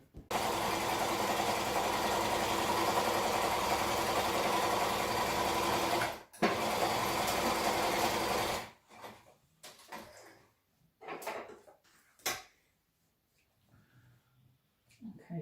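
A sewing machine stitches caravan seat fabric onto padding in one loud, steady run lasting several seconds, followed by scattered handling knocks and a few short bursts of stitching.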